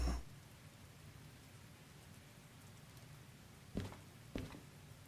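Steady light rain in the train game Derail Valley hisses continuously, with a couple of sharp brief knocks near the end.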